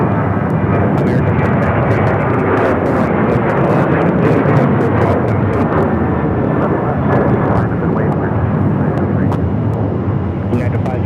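An airliner takes off from runway 7 left at Phoenix Sky Harbor, its jet engines a loud, steady, broadband roar that holds through the whole stretch with no voices over it.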